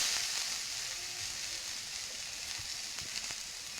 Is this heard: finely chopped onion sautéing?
yes